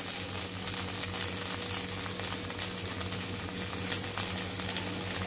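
Vegetables sautéing in a hot pan with green chillies and coriander, a steady close sizzle and frying crackle that runs evenly throughout with no voices.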